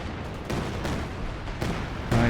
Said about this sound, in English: And the next rapid barrage in.